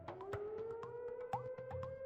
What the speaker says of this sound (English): And now there's air raid sirens going on.